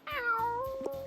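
A pet cat gives a drawn-out, wavering meow up close, followed by a shorter second cry near the end, clear and moderately loud in a quiet room.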